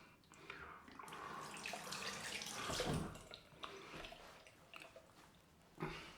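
Tap water runs steadily into a sink during a wet shave with an Edwin Jagger DE89 razor and Oxford Soap Co soap, a continuous close splashing stream with a brief louder gush near the end.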